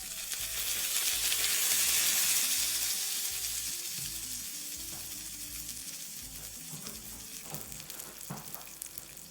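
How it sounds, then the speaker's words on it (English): Hot oil with almonds and Aleppo pepper hits cold yogurt for Lebanese hummus fatteh and sizzles loudly and steadily at close range, peaking early and then settling into a crackling fry with a few light clinks and no speech. "We'll immediately pour it on top of our cold yogurt and hear it sizzle."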